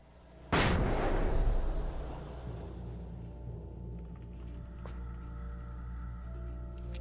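A frag grenade detonates in the video game Alan Wake, one loud sudden boom that rolls into a long low rumble and fades under a steady game hum, with no voices.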